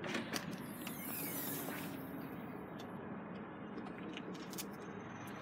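Creaking mechanism of a car tailgate being lifted open, a few clicks and a brief creak up front, then steady quiet background noise.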